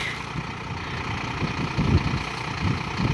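A motorcycle engine idling, a low steady rumble with small surges of pulsing throb, moderately near and fairly quiet.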